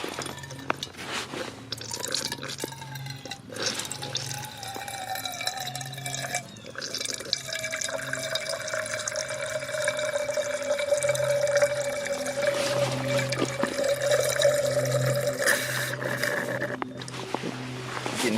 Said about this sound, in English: I'm just going to be using this to squeeze the water in here.